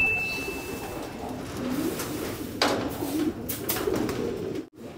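Pigeons coo steadily in a loft colony, a soft continuous murmur of overlapping calls close by, with a brief flutter near the end.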